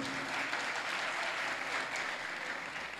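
Sustained applause from a crowd, a dense, steady clatter of many hands clapping at an even loudness throughout, with no voices standing out.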